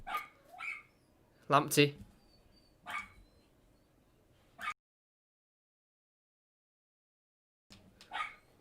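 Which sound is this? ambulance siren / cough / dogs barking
dogs barking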